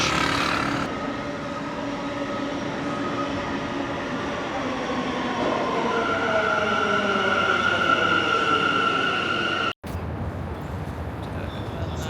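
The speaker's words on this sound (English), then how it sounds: "we need to make our way down to the subway" A New York City subway train rumbles loudly along the track as its motor whine climbs steadily in pitch, followed by a brief cutout and continued rolling noise.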